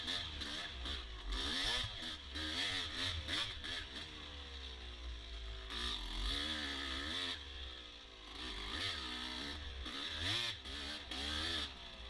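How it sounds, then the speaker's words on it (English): A motorcycle on a single-track trail holds steady throttle, its engine revving and dropping again and again as it carries speed, loud and close throughout with no voices. "You can already tell I'm on the throttle a lot more and just carrying a lot more speed"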